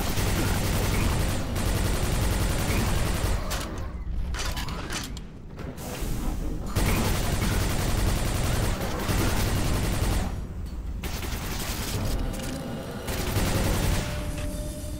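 Hyper Blaster fire rattles in long rapid bursts in Quake 4, dense and loud with mechanical clatter, broken by a few brief pauses.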